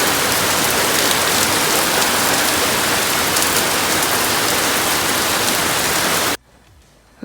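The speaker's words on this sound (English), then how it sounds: "Yes, it is raining." Heavy, steady rain pours down, a dense hiss that holds constant before cutting off abruptly near the end.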